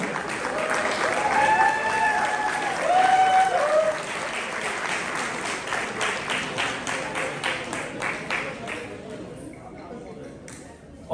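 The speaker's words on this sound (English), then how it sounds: "A huge round of applause for them." An audience at a Bangladeshi night event in 2023 applauds loudly, steady clapping that swells and then thins into scattered claps before fading, with voices calling out over it early on.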